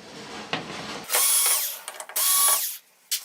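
Electric screwdriver backing screws out of the main board of a Samsung UN60FH6003 TV, with two close whirring bursts that shift in pitch as they run, plus a few short clicks and handling taps.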